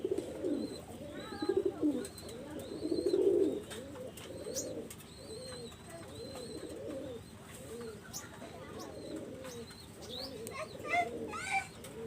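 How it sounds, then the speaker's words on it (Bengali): Pigeons, including a female and a double-crested type, coo repeatedly at close range in a loft, with low throaty phrases recurring over faint chirps and ambient noise. "একটা ফিমেল কবুতর আছে ডাবালা কবুতর একটা ফিমেল"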